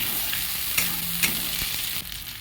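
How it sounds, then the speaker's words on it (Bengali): Potato and soybean curry with ground garlic, ginger and onion being sautéed in a pan, a steady close sizzle with stirring scrapes and light clicks. "এটা একটু ভালো করে কষতে হবে।"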